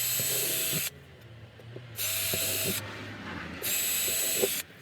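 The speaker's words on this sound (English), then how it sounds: "drill myself 4 little guide holes" A power drill bores small guide holes into the metal body of a VW T5 van, three bursts of high whirring with short pauses between, close and fairly loud.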